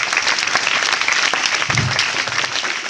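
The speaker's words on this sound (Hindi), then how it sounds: "तो तालियों के साथ स्वागत करते हैं मलाला यूसुफ़ज़ई का" An audience at a school event gives sustained applause in welcome, a dense, even clapping that fills the room and goes on throughout with no voices.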